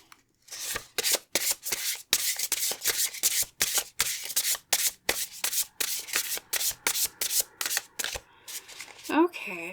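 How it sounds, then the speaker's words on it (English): A deck of tarot cards is shuffled over and over in rapid, papery riffles. The bursts come in a quick uneven rhythm, close and clear, with a short faint sound at the very end. "Get a nice good shuffle in here."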